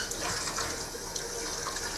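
Cold water runs steadily from a tap into a sink in a bare washroom, a continuous broad hiss and splash at close range with no talk over it.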